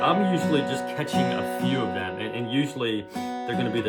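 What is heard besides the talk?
No distinct noise like a dog, phone or traffic.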